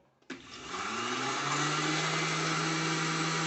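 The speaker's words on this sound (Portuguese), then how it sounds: "Vamos dar uma pré-batida nesses ovos para ficar bem misturado" A blender starts up after a brief click and whirs steadily while pre-beating eggs for a blender chocotone, a loud, constant motor hum with the pitch settling as it runs.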